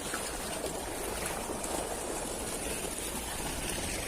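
Water gushes from a farm motor pump into a paddy field, a constant rushing, splashing flow heard up close with no pauses.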